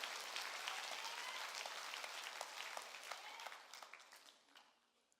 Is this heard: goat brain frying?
no